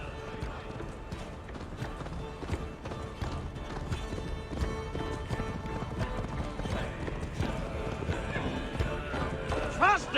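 Rhythmic hoofbeats of a galloping horse in Assassin's Creed Valhalla, steady and close, with a whinny near the end and game ambient sounds and voices mixed in.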